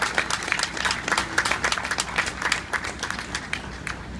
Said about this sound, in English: please join me in giving both the teams a round of applause